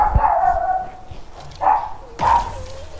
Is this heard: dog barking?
yes